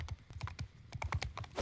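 Horse hooves clip-clop in a cavalry-fighting video game, a quick irregular run of sharp thuds and clacks at close range with no talk over them.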